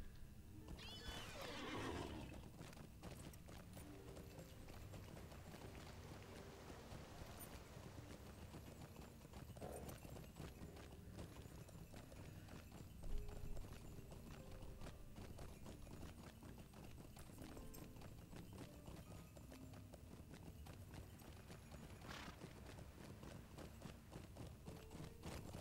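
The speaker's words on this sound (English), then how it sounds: "I am going to mount up and ride horses through here." A horse in a video game whinnies early on, then its hooves clip-clop steadily throughout the ride under a dense, continuous ambient bed.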